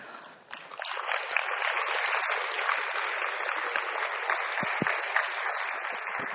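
A lecture hall audience breaks into sustained, even applause that swells quickly and holds at a dense, continuous patter.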